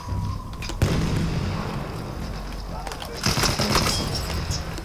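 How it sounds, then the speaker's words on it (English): Bomb blasts in the World War I shooter Battlefield 1, sharp booming bursts near the start and again later, over a steady rumble of battle noise. "Bomba atıyorum. Kafanıza dikkat edin."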